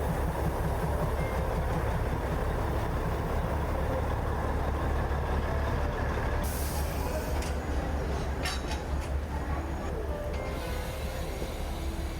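The Matheran toy train idles at the hill station platform with a constant low engine rumble. Brief metallic squeals and clunks rise partway through.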